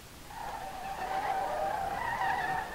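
Tires squeal in a long, continuous skid from a low-grip drift car in the game SLRR, a steady whining screech that rises slightly in pitch and loudness, with no talking.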